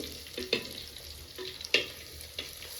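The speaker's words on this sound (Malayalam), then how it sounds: "വെളുത്തുള്ളി ഇട്ടു" Garlic sizzles in hot oil in a pan, the start of a toddy-shop-style mackerel curry: a steady low frying hiss broken by a few sharp scrapes as it is stirred.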